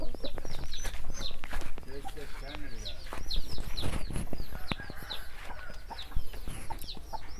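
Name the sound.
Rasangi hens and Thurpu rooster clucking, fighter chicken breeds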